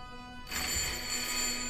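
Telephone ringing in the horror video game Layers of Fear, inside a lighthouse: a faint steady electronic ring starting abruptly after half a second and continuing alone.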